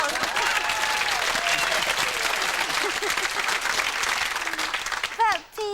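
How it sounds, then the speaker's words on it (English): A studio audience at a 1990s British TV chat show claps in a dense, sustained round of applause that fills the room, then tapers off sharply near the end. "Give it a round of applause"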